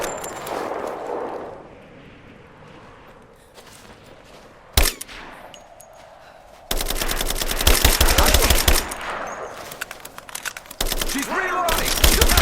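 Gunfire in a firefight in the video game Rise of the Tomb Raider: a single sharp shot, then a dense burst of rapid automatic fire, a brief pause, then more sustained bursts, loud and close, with some voices.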